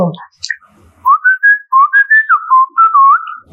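A person whistles a short, clear melody of sliding and held notes, loud and close, with no other sounds around it.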